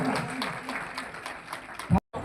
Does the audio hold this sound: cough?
no